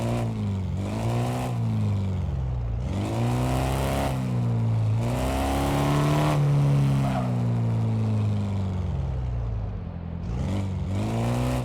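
Simulated car engine revving while driving in Car Mechanic Simulator 2026, rough-sounding, with repeated rising and falling revs and gear shifts, loud and close with no talk.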